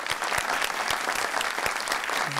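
Studio audience applause on a TV talk show, a steady dense wash of clapping at moderate level with scattered louder claps, continuing throughout without speech.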